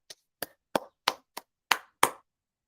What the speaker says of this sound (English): Keep clapping until that is done.